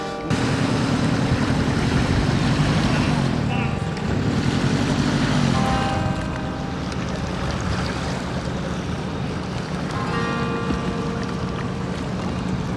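An outboard motor pushes a small boat at full throttle along the Oka river, a loud steady drone mixed with wind buffeting and water rushing past the hull, easing slightly partway through.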